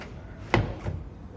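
A handleless push-to-open touch-latch drawer closes, giving a sharp close knock followed by a softer second thump against quiet room tone.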